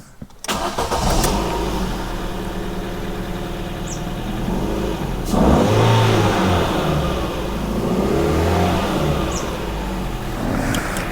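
Ford Fiesta petrol engine cranking and catching, then settling into an idle with a couple of throttle blips raising the revs, close and steady throughout.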